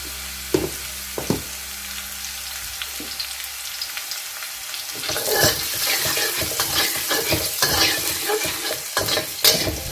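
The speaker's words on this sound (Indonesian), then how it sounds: "Nah ini tumis dulu bawang putihnya sampai wangi ya" Garlic sautés in hot oil for bakcang filling, a quiet sizzle with a few clinks at first, then louder, busier stirring and frying with scraping knocks against the pan.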